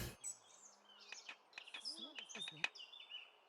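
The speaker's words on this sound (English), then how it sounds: "Oh, you mean like the bird chirping and stuff?" Birds chirp and tweet in an outdoor VRChat world, short bright calls scattered through the clip at a moderate distance, with a voice speaking faintly underneath.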